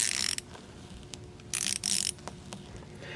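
A Mac Tools 1/4 inch drive 90-tooth flex head ratchet clicks in short close bursts, quick fine ratcheting pulses separated by pauses of working.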